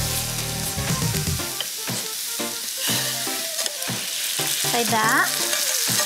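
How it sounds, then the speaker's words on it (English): Radicchio stirred and cooked gently in a pan with pasta sauce, a steady close sizzle with scraping stir strokes throughout, a brief spoken remark over it. "I'm gonna add the radicchio in it. Then I'll mix and cook gently all together."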